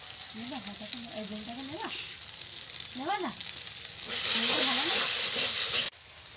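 Spices with kasuri methi and a pinch of hing frying in a pan for a cabbage curry, a steady close sizzle that grows louder and hissier near the end before cutting off, with a few stirring scrapes.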